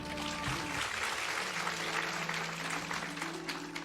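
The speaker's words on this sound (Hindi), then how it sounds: "सवाल के लिए तालियां बजाइए।" A seated audience at a Hindi spiritual discourse claps under a faint background hum, with a steady, moderately quiet patter throughout.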